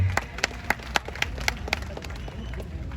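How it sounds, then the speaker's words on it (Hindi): Audience applause at a product launch event in Jodhpur, a crowd clapping with several sharp louder claps standing out over a steady wash of hands, at moderate level. "तो वीरेंद्र जी के लिए डबल तालियां होनी चाहिए।"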